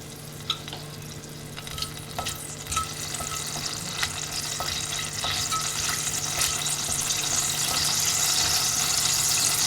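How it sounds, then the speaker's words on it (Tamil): Mustard seeds spluttering in hot oil for Sivakasi-style sambar, a steady sizzle dotted with sharp pops and crackles that grow denser and louder toward the end, with no talk. "எண்ணெய் சூடானதும் கடுகு போடுவோம். கடுகு பொரியட்டும்"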